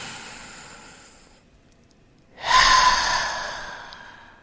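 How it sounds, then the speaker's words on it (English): A deep breath in fades to quiet, then a loud, forceful exhale rushes out, breathy and close to the microphone, as part of a guided breathing exercise. "Again, inhale deeply, exhaling out loud."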